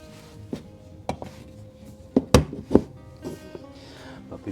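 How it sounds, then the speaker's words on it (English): The lid of an old pottery kiln being lowered and closed, a few scattered knocks and thunks, one sharper clunk in the middle, close by in a quiet studio. "Now we're ready to close the lid and then plug in the power."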